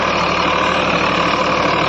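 Massey Ferguson 245 DI tractor, a 2018 model, ploughing a field with a subsoiler while its wheels slip, its diesel engine droning loud, steady and close without a break.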